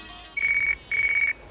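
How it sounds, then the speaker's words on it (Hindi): A telephone rings twice in a quiet room with a bright electronic tone, each ring lasting under half a second and separated by a short gap. "ये फोन भी गलत टाइम पे बजता"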